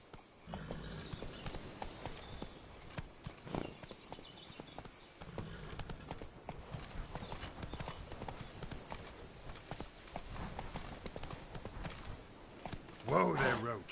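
Roach the horse's hooves clip-clopping at a walk in The Witcher 3, a steady quiet rhythm of hoofbeats with soft movement noise, a voice speaking now and then over it.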